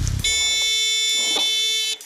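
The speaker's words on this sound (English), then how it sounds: "we have it triggered to a switch, which puts the buzzer on" Electric buzzer switched on as part of a raccoon puzzle device, a loud, continuous harsh buzz starting just after a short thump and sounding steadily for nearly two seconds before cutting off.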